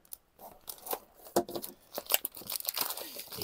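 Packaging of a Reolink wifi doorbell box being opened, with close, irregular bursts of tearing and crinkling cardboard and wrapping, then a brief snip.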